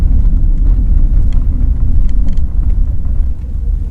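A Hyundai HB20 Unique manoeuvres at the end of a street, its engine and road noise forming a close, steady low rumble with faint scattered clicks and no talk.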